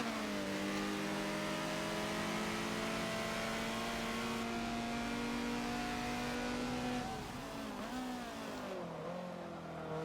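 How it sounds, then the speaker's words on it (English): A racing car in the Forza video game, a CRX on a drying Silverstone International circuit, with the engine droning and revving steadily while the tires squeal faintly under the engine note, shifting pitch as the car brakes and turns. "Tires are starting to squeal."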